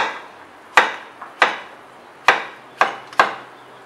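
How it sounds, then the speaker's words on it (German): A kitchen knife cuts through halved zucchini into half-moon slices about half a centimetre thick, five crisp chops hitting a board at uneven intervals, close and clear with no talk. "ich halbiere dann nochmal die Zucchini und schneide hier"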